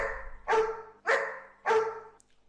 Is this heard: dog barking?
yes